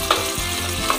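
Turmeric leaves hit a hot pan while a sardine and chive dish cooks, giving a close, loud sizzle with a couple of stirring scrapes and no talk.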